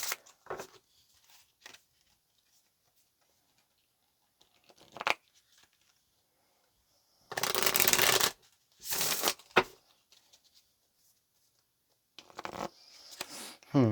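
Tarot cards are shuffled in several short, crisp riffling bursts separated by quiet gaps, close and fairly loud against a silent room.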